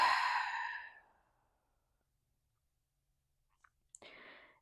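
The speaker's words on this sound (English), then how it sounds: "Open mouth, exhale." A long breathy exhale through an open mouth, heard close and alone during a yin yoga breathing exercise. It fades out, and after a silence come a couple of small clicks and the start of another soft breath.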